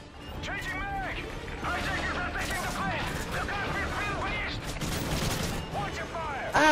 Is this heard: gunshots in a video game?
yes